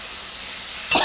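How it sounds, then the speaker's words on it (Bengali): Spice masala for a river fish curry sizzles hard in a hot pan, with a steady hiss and a brief louder burst of stirring near the end; no voices. "মশলাটা দিয়ে ভালো করে কষিয়ে নেব।"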